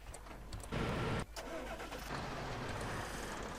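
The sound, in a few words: Fendt 820 tractor engine starting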